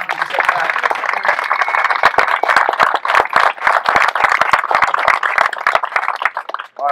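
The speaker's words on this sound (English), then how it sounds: "can I get a huge, big round of applause for everybody that helped put this event on today" Crowd applause at a Platoon 22 speakers event for the people who organized it, brisk close-up clapping from many hands with distinct sharp claps standing out, steady throughout and ending abruptly.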